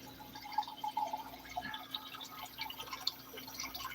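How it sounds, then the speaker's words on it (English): Water is poured into a dirty dish to let it soak after a meal, a soft, steady trickle and dripping at moderate level with scattered clinks, no speech over it. "I'm just gonna pour some water in there to let it soak."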